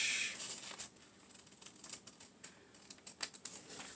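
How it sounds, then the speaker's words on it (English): Scissors cut an arch in paper or card for a shark craft, giving a rapid run of small crisp snips and clicks that sound close and fairly quiet, with no talk. "And then I'm going to cut just an arch."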